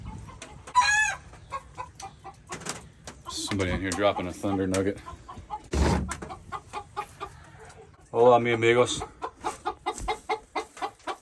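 Hens cluck and squawk around shared nesting boxes in a backyard coop, loud and close, with one hen giving a long drawn-out laying call while someone talks over them.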